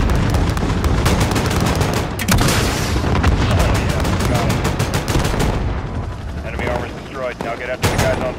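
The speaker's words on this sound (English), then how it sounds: "Mike, here comes gunfire." Rapid bursts of machine-gun fire with booming impacts in the video game Call of Duty: Modern Warfare, loud and sustained, thinning out toward the end where a voice briefly comes through.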